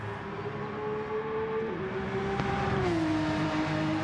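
Porsche race car engine in a racing video game at Bathurst, a steady loud drone whose pitch holds then drops slightly as it shifts, continuous throughout with no talking.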